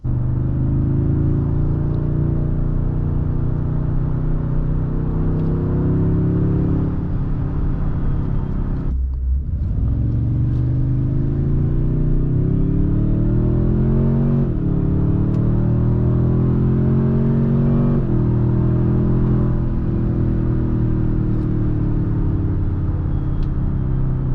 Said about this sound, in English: All of that low-end torque really helps this thing jump off the line with little to no lag